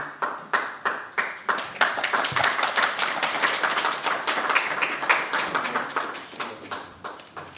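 A morning symposium audience at the Bible Lands Museum in Jerusalem begins with a few separate, spaced handclaps that swell into fuller applause, then thin out again near the end.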